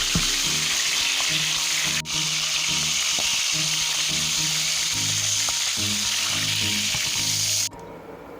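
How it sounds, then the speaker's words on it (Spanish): Rabbit pieces browning in hot frying oil give a loud, steady close sizzle with occasional clinks of a utensil in the pan, ending abruptly near the finish. "Así continuamos dorando el resto de las piezas del conejo."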